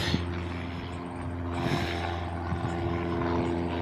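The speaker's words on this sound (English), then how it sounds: "You hear an airplane." A steady engine drone hums continuously, a propeller aircraft passing somewhere overhead, with low tonal bands holding for the whole stretch and no voices.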